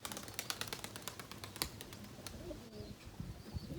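Pigeons cooing close by at a pigeon loft, soft low coos mixed with sharp tapping and fluttering clicks throughout, with no talk.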